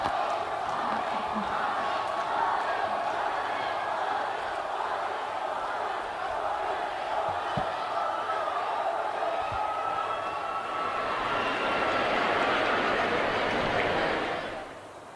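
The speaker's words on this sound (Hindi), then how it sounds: "और एक बार जोरदार तालियां माननीय प्रधानमंत्री जी के" A large outdoor rally crowd welcoming the Prime Minister claps and cheers in a dense, sustained roar that stays loud and even, then cuts off abruptly near the end.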